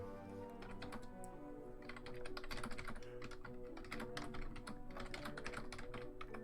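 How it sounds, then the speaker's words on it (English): Rapid typing on a computer keyboard with irregular clicking keystrokes, close and steady over a background of soft game music, with no talking. "I'm just typing something."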